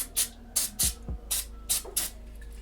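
Close, repeated short hissing bursts of spray cleaner on an Audi A6 C5 rear brake caliper, about seven quick squirts in a steady rhythm.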